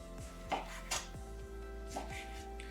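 A knife cuts tuna for a spicy tuna roll into small cubes on a board, giving a quick series of soft, evenly spaced chopping taps with a few brighter clicks, quiet and close, with no talking.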